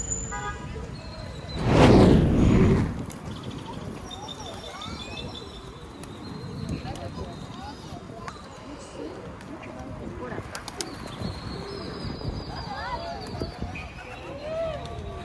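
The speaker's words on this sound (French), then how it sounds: "Il y a plein de pigeons." Pigeons coo softly amid outdoor ambience, with a loud whooshing flutter early on and people talking intermittently nearby.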